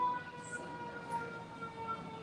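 Emergency vehicle sirens wail faintly in the distance outside a courthouse, a thin steady tone drifting over low street ambience.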